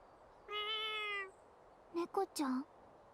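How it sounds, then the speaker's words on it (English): A cat meows in the video game Little Witch Nobeta: one clear, drawn-out meow followed by a quick run of three shorter meows, fairly close and alone over a faint background. "A kitty cat."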